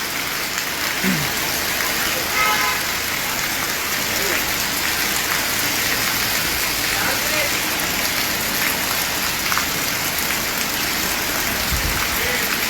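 Sudden unseasonal evening rain pours down on a market street in Vaibhavwadi, a dense, loud and steady hiss of drops on surfaces throughout, with faint passing traffic underneath.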